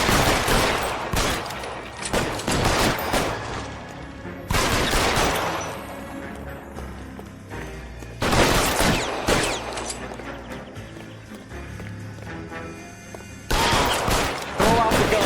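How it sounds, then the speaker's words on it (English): Gunfire rings out during a shootout in the L.A. Noire video game, arriving as several loud bursts of rapid shots separated by quieter gaps. "Ve tamam şimdi adamları vurabiliyoruz."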